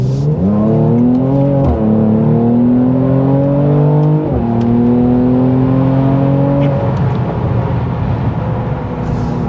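A Mercedes C43 AMG accelerates hard off a roundabout, its engine note climbing through two gear changes with brief dips between, loud and close, then settling into a steady drone.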